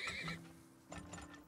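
A horse neighs in the Turmoil video game, a loud, close whinny at the start. A quieter second call follows with faint clip-clop, and no talk is heard.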